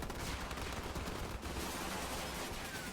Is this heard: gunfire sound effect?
yes